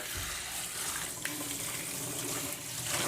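Cleaned red tilapia is rinsed under a running kitchen tap, giving a steady, close rush and splash of water that runs without break and without talk.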